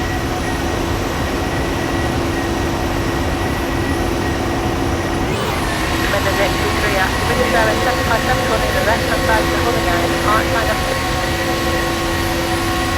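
A Ryanair jet climbs after takeoff in a flight simulator, its engines droning with a steady hum and tonal whine, while a new set of tones and rattles joins partway through.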